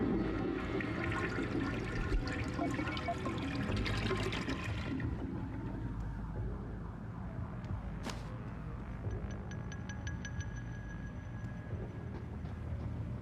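A toilet flushes in the video game Deus Ex: Human Revolution Director's Cut, with a loud rushing gush of water for about five seconds, then a quieter draining trickle and faint ambient hum.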